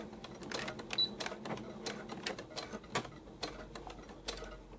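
A home sewing machine runs a seam on a tank top, giving quiet, uneven bursts of mechanical ticking and clicking at close range, with no voices.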